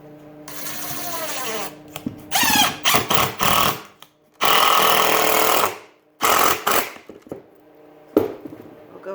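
Power drill driving 2.5-inch outdoor deck screws into wood for a raised garden bed corner post, several loud whirring bursts of a second or two each separated by pauses, with faint handling noise between.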